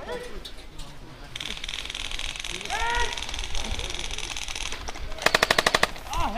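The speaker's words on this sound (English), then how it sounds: "Meanwhile, I'm giving them cover fire from up this hill and taking out opponent after opponent." A custom AK105 airsoft rifle lays down cover fire from a hillside during an outdoor skirmish, a rapid mechanical burst of clacking shots near the end, with voices and background shouting earlier.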